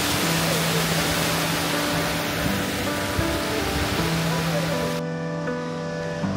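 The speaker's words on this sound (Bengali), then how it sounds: "আর এখানে রাস্তাটা খুব বেশ এক সম্পূর্ণভাবে জল বইছে" Water rushing across a mountain road on its way to a river in Nepal, a loud, dense, continuous roar with faint voices and tonal hums underneath.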